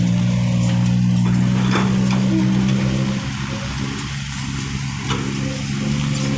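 A modified small farm tractor with a swapped-in 195 engine runs at a steady idle, giving a low droning hum that stays loud throughout, with faint background noise at an outdoor event.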